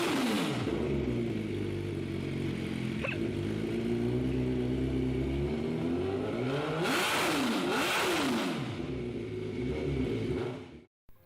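A Suzuki Hayabusa GSX 1300R motorcycle engine revs, holding a steady throaty idle before several sharp rising and falling throttle blips, then cutting off abruptly at the end.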